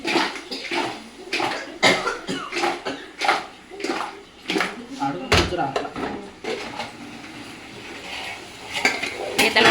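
A spoon scrapes and clanks against a cooking pan as crabs are stirred for a Kanuma festival crab-and-prawn dish, with repeated irregular metallic knocks and rattles close by and some background voices.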